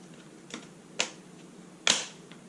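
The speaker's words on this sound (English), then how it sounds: "get this plastic clip attached to the frame" A few sharp clicks and snaps of a plastic clip attaching to the frame of a 2008 Ford Ranger passenger seat, close and fairly quiet, spaced irregularly over a couple of seconds against faint background hiss.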